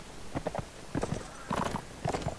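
Horse hooves in Mount & Blade: With Fire and Sword clip-clop in quick groups of beats on a hard surface, moderately close, without any voices.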